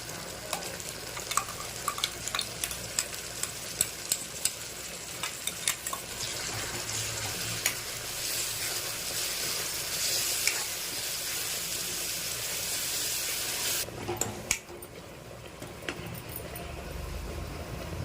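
An onion and tomato paste fries in a pan for a fish curry, giving a steady soft sizzle broken by frequent clicks and scrapes of stirring, with a brief louder clatter near the end.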